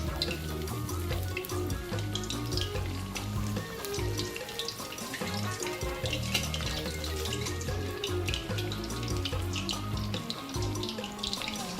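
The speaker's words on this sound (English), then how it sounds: "Just look at the fritters sparkling in the oil." Prawn fritters frying in a pan of hot oil make a steady, dense crackle and hiss that holds unbroken at an even level, close up with no talking.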